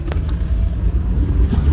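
Cars racing on a road in Pakistan, their engines giving a steady, loud low rumble throughout, with a brief sharp knock near the start and no talking.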